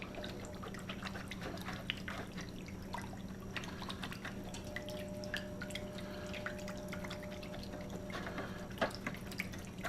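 An acid brush scrubbing a dry film resist board under water, with running tap water, drips and small splashes, and irregular scratchy brush strokes over a steady watery hiss. No talking.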